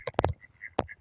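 Ducks, including a purple-colored one, give a few short nasal quacks in quick succession, then one more after a brief pause, fairly close and clear.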